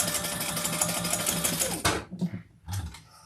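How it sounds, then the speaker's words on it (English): Sewing machine stitching fabric in a steady fast mechanical whir for nearly two seconds, then stopping, followed by a few brief handling clicks and thumps. "let's just sew this together"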